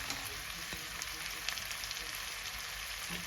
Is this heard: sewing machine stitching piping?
no